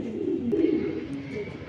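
Racing pigeons coo in a loft, a soft low throaty warbling that repeats close by, heard alone without talk.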